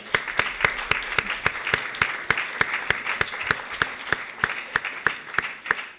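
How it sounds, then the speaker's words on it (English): Applause for students at a Diversity and Explorations evening event in 2015: close, crisp claps in a quick, even rhythm dominate over a softer background of audience clapping throughout. "I think we want to applaud you all"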